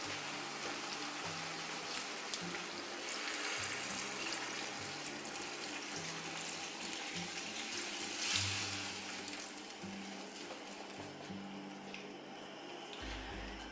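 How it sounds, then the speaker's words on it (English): Water runs steadily into a cooking pot to cover chicken pieces, a continuous close splashing pour at low volume with no talking. "we're just gonna take some water and just cover all of the chicken"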